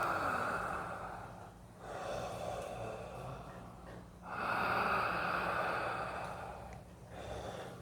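Deep breathing in breathwork meditation, long airy inhales and exhales in a slow steady rhythm with brief pauses, close and fairly quiet, no talking.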